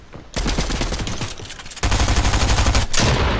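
Rapid automatic gunfire rattles in the video game Fortnite, loud and close, in two dense bursts separated by a short gap.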